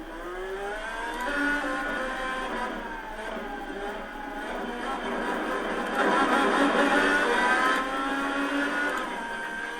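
IndyCar race car engine from a racing game at Road America, a steady high-pitched whine with shifting pitch and slight swells as it revs, holding close and loud throughout with no pauses.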